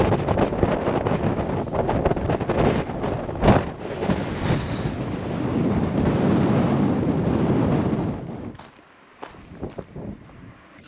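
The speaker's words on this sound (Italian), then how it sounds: "si incanala un vento in questa gola che ti porta via" Strong, cold wind roaring through the Imbros gorge in Crete, buffeting the microphone in a loud, continuous rush with gusts, then dropping away abruptly near the end.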